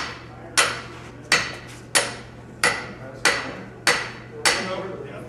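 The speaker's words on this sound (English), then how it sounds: "Where's a hammer?" Hammering on metal at a blacksmith conference: seven sharp, ringing blows spaced roughly evenly, each decaying quickly, over a low steady hum.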